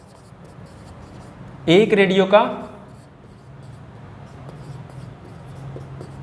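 A pen scratches out working for a Class 6 maths problem in a quiet room, with soft, steady strokes. Someone briefly speaks over it partway through.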